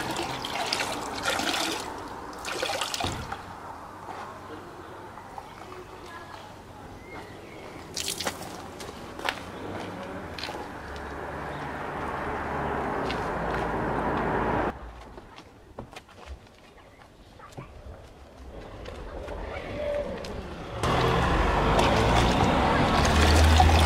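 A modified Abarth hand-washed with a wash mitt and sudsy bucket water: steady wet swishing and scrubbing with splashes and drips, loud and close, with a brief quieter pause before the washing resumes.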